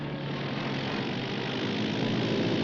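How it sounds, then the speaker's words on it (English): A propeller pickup plane coming in to land drones with a steady, fairly close engine roar that holds even and slightly swells over the whole stretch, with no voices. "That's a pickup plane."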